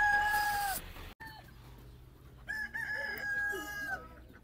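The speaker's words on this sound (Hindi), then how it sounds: "ये अमेरिकन नस्ल की मुर्गियाँ देखें आप, सुसेक्स, इसको सुसेक्स कहते हैं" A rooster crows loudly and close, with hens clucking and calling after it, among Sussex and Australorp chickens on a farm near an Amish village in the USA.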